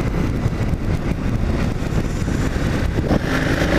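A KTM 990 Adventure motorcycle engine revs hard and loud from close range, a dense, steady roar that keeps going the whole time with no voices over it.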